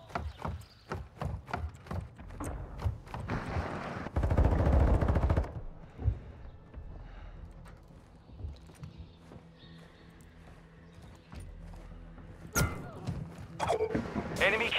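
Gunfire in Modern Warfare 2 aimed at a UAV overhead: a loud dense burst of rapid automatic shots, with scattered single cracks and thuds before and after amid game sounds.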